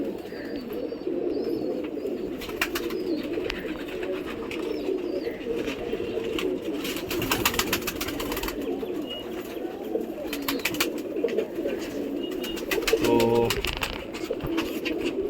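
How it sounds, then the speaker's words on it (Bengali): Champion pigeons coo continuously in a steady, low, throaty murmur, close by, with a few faint clicks and rustles on top and no talking. "এই একটা পায়রা দেখাচ্ছি আপনাকে"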